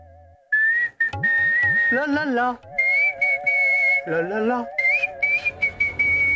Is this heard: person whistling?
yes